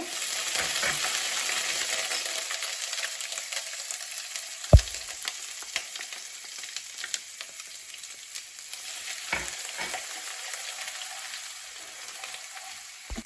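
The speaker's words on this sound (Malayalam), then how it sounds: "അതിനുശേഷം നമ്മൾ ചതച്ച് വെച്ചിരിക്കുന്ന ഇഞ്ചി വെളുത്തുള്ളി ഇട്ട് കൊടുക്കുവാണ്" Crushed ginger and garlic frying in hot oil in a pan for pork chops, a steady close hiss and sizzle with occasional stirring scrapes and a sharp knock.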